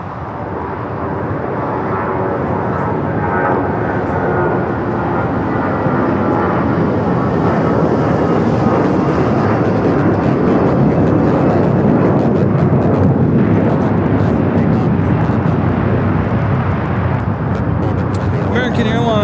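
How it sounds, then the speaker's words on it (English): An American Airlines A321, flight 2430 to Dallas-Fort Worth, takes off from LAX with a heavy, close engine roar that swells early and stays loud throughout, with voices faintly beneath. "American Airlines Flight 2430 taking off to Dallas-Fort Worth on the A321."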